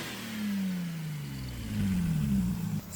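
Lexus GS300 with a swapped engine and a bad throttle body, idling unevenly with a steady mid-pitched hum whose pitch wavers and surges slightly, close up with no talking.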